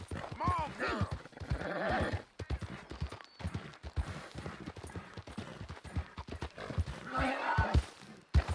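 Horse hooves clip-clop steadily with a couple of whinnies in the Red Dead Redemption 2 video game, heard close under almost continuous talking from a player.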